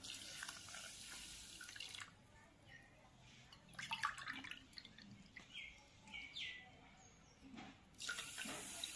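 Water poured from a glass onto sugar in a pan for gulab jamun syrup, a few bursts of splashing and trickling separated by pauses, close but fairly quiet.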